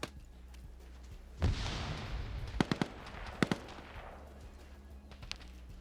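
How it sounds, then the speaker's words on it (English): Gunfire in a multiplayer PvP video game match, with blind suppressive fire: a burst of noisy firing followed by several sharp, distinct shot cracks at moderate distance against a low background hum. "He's blind firing, trying to call up to whoever he can, but now you got Geiger shooting up at him."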